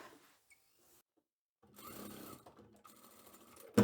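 A domestic sewing machine runs in short bursts as it stitches the fabric of a large drawstring laundry bag, quiet whirring with brief pauses and a sharp click at the end.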